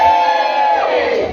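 Comedy show audience cheering and whooping together in a live venue, a loud, dense burst of crowd noise that swells briefly and then fades.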